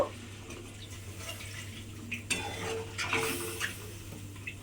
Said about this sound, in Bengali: অল্প সামান্য একটু জল দিলাম